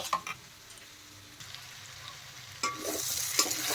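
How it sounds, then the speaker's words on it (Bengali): Jackfruit pieces fry in hot oil, a quiet steady sizzle with faint scattered pops and a few clinks of a utensil, swelling louder toward the end. "দেখেন কাঁঠাল ভাজা হয়ে গেছে।"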